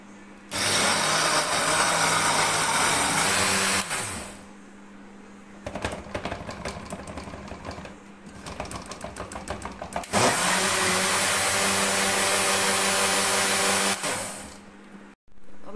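A blender whirs through mango cake batter in long loud bursts, stops, restarts with a rougher rattling run, then roars again and cuts off, heard close with no talk.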